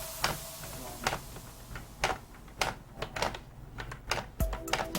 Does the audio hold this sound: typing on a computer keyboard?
yes